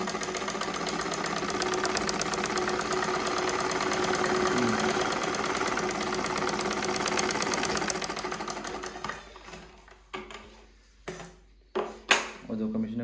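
A sewing machine with a thread-bunching fault runs with a steady, close mechanical whir and rapid needle chatter, then stops, leaving a few loose clunks and taps of parts being handled.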